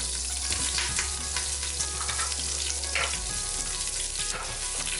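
Onion and garlic sauté in an Instant Pot with a steady, bright sizzle and occasional stirring scrapes, close and continuous, with no talk.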